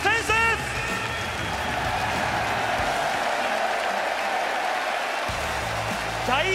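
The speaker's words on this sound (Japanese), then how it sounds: "大歓声のど真ん中にいますよ、岸田さん。" Huge stadium crowd roars after a pinch-hit walk-off home run by Kishida at a baseball game in Japan, a dense sustained cheer filling the air while a broadcaster talks over it.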